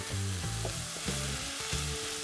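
Minced meat fries in a pot while a wooden spatula stirs and scrapes it, a steady close sizzle broken by a few rhythmic scraping strokes, with no voices.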